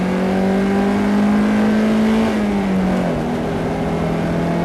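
A car engine drones steadily on a circuit at Knockhill during a performance driving lesson, a loud close interior hum that holds its pitch, then drops as the throttle eases.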